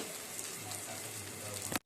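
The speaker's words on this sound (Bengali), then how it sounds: "চলো ডিমটা একটু ভেজে নিই" An egg frying in a pan gives off a faint, steady sizzle, cut short by a sudden clunk at the end.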